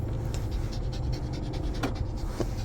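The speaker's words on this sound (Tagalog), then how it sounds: "Yan, hingal-hingal ka tuloy." A dog pants steadily and close by, a quiet rhythmic huffing breath that runs the whole time with no talk over it.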